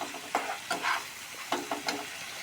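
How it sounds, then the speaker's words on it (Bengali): Spices fry in a pan for a fish curry, with soft sizzling under several distinct scraping stirs that come in quick irregular bursts, close by and fairly quiet, with no voices. "তারপরে আমার মশলা ভাজা হয়ে গেছে।"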